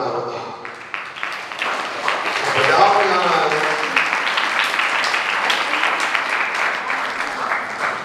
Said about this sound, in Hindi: ये ताली हमें बंद करने के लिए बजा रहा है कि समर्थन कर रहा है?